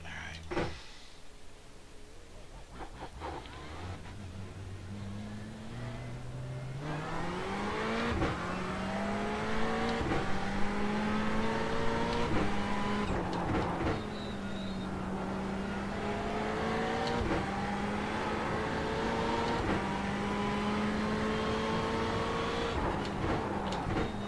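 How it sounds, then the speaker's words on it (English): A race car in the iRacing simulator accelerates through gears with a rising, high transmission whine layered over the engine note, sustained and steady, with no speech. "you can definitely hear the transmission whine in this car"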